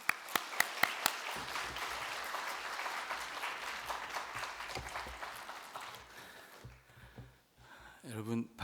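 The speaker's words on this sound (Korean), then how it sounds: "우리 박수로 다시 한번 환영합니다." A church congregation claps in welcome for a guest professor at a Sunday joint worship service, opening with a few sharp individual claps, then steady applause that fades out, with a voice speaking near the end.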